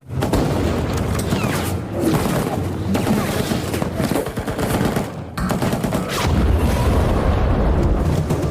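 German artillery blowing up amid a firefight with German soldiers in a war film, heard as dense, continuous rumbling blasts and rattling gunfire at close range, with brief dips in the roar.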